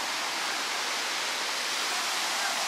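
A giant waterfall in Hickory Run State Park in Pennsylvania's Poconos roars as a steady, loud, broadband rush of falling water, unbroken from start to finish.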